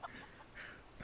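Chickens cluck in Final Fantasy XIV during the Hatching-Tide event: a few short, faint calls scattered over about a second, with no talking.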